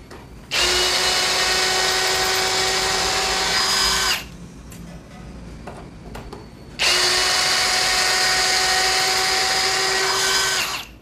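A DCA cordless hammer drill boring with a 30 mm Forstner bit in drilling mode at speed 2 whines loudly in two long bursts of about four seconds each, separated by a short quiet pause with faint clicks.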